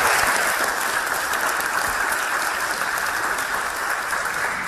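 An audience at a debate-style speaking event claps in a dense, sustained wash of applause that stays steady throughout, with no voices over it.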